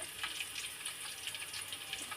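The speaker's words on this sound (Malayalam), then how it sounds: "വെള്ളം ഒഴിച്ച് നന്നായിട്ട് മിക്സ് ചെയ്യുക" Water splashes and trickles into a bowl of chili powder, cumin powder, rice flour and yogurt, a soft, hissy pouring sound with small bursts, fairly quiet and without speech.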